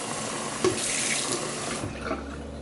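Water runs steadily from a tap into a sink, a continuous rushing splash close by that eases off slightly near the end.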